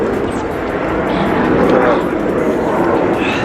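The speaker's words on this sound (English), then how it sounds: "I know there's a plane, so it's probably drowning out the sound." Airplane passing overhead outdoors, a steady broad engine drone filling the background while a person talks over it throughout.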